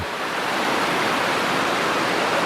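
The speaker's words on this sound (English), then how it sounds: "I did notice that the water is doing different things because it's hitting that, and it's like circling back" Loud, steady rushing of a Washington State stream, with water swirling and circling back around rocks, filling the scene with a continuous close hiss and no voices.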